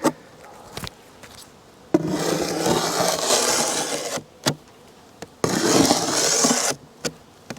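Wooden beehive frames being handled and rubbed while preparing hives for winter, with bees buzzing throughout; two long bursts of scraping and rustling stand out, separated by sharp knocks of wood close by.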